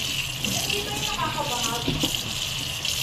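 Kurapdot mushrooms are washed in water, making continuous close splashing and running-water noise, with a voice murmuring underneath.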